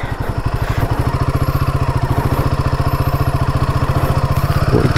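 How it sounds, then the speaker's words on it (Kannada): A heavy motorcycle engine chugs in thick mud near a bridge at Halady, a loud, close, rapid rhythmic throb that holds steady throughout with a brief clatter at the end. "ಬೈಕ್ ಬೇರೆ ಭಾರ ಅಲ್ಲ, ಇಳೀತಾ ಇದೆ ಒಳಗೆ."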